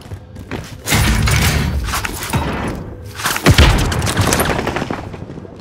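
Gunfire in the video game Call of Duty Modern Warfare: loud, close bursts of rapid shots with heavy thumps, packed throughout, a particularly strong blast around the middle.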